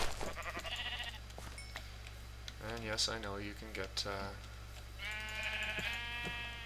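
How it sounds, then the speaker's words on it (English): Sheep bleat in a Minecraft-style survival video game, a few wavering, nasal bleats in short bursts with gaps between them, while someone talks over them. "Floating island sheep."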